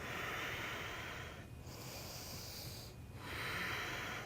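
Slow yoga breathing held in warrior 1 pose, long airy hissing breaths close to the microphone with two brief pauses between them, quiet and steady.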